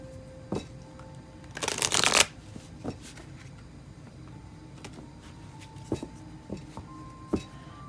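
Tarot cards being shuffled close up in a quiet room, one loud riffling burst followed by scattered light taps and card handling.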